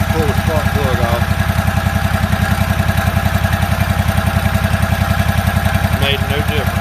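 A Toro zero-turn mower engine runs loud and steady, one spark plug pulled off, a rough rhythmic idle with a faint voice briefly audible over it.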